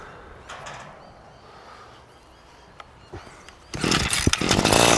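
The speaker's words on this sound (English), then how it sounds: "right, Duffy, I've never used this whippersnipper before" A string trimmer (whipper snipper) engine sputters faintly at first, then bursts into a loud, buzzing run over the final second.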